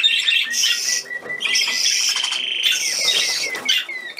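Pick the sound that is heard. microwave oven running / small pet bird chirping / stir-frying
small pet bird chirping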